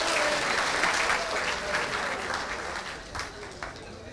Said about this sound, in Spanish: Un aplauso para el profesor Francisco,